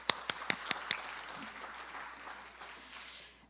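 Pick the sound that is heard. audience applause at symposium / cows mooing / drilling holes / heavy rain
audience applause at symposium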